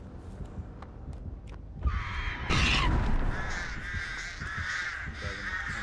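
Crows caw loudly and close in Dead by Daylight, with harsh overlapping calls that follow a few scattered footsteps and thuds and carry on steadily to the end, with no talking.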